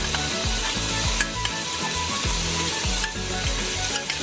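Mutton frying in oil in a pan with Kolhapuri masala paste, giving a steady, close sizzle that runs throughout, with a few soft scrapes of stirring.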